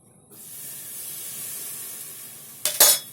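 Salt water poured onto rice roasting in a hot pan gives a sudden loud hiss, with steady sizzling and steam building through the clip and a sharp burst of spitting near the end, no voices.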